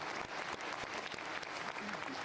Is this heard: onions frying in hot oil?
no